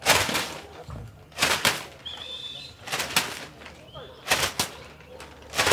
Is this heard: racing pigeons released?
yes